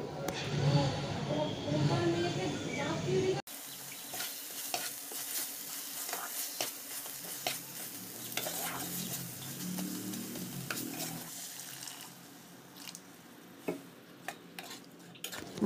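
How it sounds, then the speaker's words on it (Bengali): Ground spices fry on a low flame in a pan while they are stirred now and then with soft scrapes and clinks over a gentle sizzle. A short burst of other noise comes first, and a voice is faintly present at times. "বাতিটাকে কম দিয়ে আমি একটু অল্প পরিমাণে নাড়াচাড়া করে নিই"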